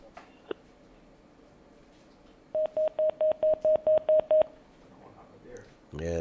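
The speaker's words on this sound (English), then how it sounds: "Yeah, the phone cut off." Telephone line tones as a caller's call drops on a radio call-in show: eight evenly spaced tonal beeps in a steady burst after quiet, with a brief click earlier and a low rumble rising at the end.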